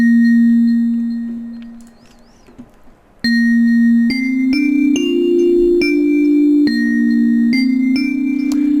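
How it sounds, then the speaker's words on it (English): A synthesizer's glass preset plays bright, bell-like tones with ringing high overtones. One long note fades into quiet, then a series of sharp, sustained glassy notes steps through a short melody. "because with the glass it sounds like this"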